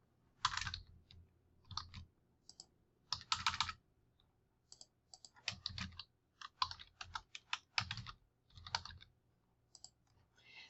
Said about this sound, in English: you just type that in here